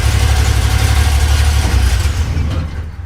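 A Land Rover fitted with a Buick V6 engine idles close by, a loud steady low rumble with even pulsing that eases slightly toward the end.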